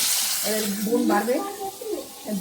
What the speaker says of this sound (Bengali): এদিকে চিংড়ি মাছ ভাজা, আর এদিকে ইলিশ মাছ।